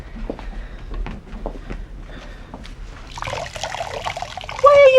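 Water squeezed out of a wet sponge, a trickling, splashing run of liquid that starts partway through and grows steadily louder, following quieter scattered handling sounds.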